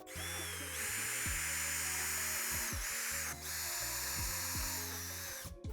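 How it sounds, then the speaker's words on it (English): A power drill with a combined countersink bit whines steadily through wood drilling screw holes, close and loud, with a brief pause midway before boring on continuously. "I'm using a special drill bit that's got a countersink and bit combined"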